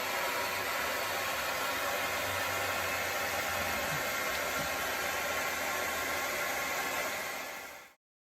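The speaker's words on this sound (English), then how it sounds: "So I'm gonna tilt the hair dryer" A hair dryer blows with a steady, loud rushing whoosh and motor hum, then cuts off abruptly at the end.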